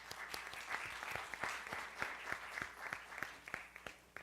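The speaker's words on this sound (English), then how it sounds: "Let's give them a round of applause." A crowd gives sustained applause for Filipina teachers and educators at an evening event honoring distinguished Filipino women. The clapping is even and moderately distant, with a few sharper individual claps standing out.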